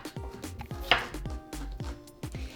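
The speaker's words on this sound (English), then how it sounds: "cut into bite-sized pieces" Knife chopping apple and pear into bite-sized pieces on a cutting board for kimchi, a steady rhythm of crisp close thunks, roughly four per second, with no talking.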